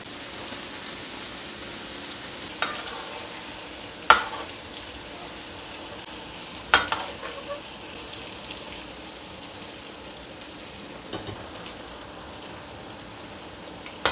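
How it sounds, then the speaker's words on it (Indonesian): Food frying in a pan in an Indonesian home kitchen, a steady close hiss of hot oil with a few sharp pops and clinks scattered throughout, without any speech. "Kita goreng."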